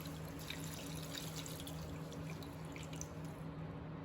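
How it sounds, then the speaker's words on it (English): Fresh water poured into a pan of rose petals, a faint steady trickling and splashing stream with a few small drips, quiet and close. "Now we'll pour some water."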